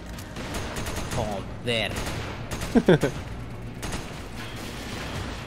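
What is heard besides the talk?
shotgun gunfire in the video game Resident Evil 5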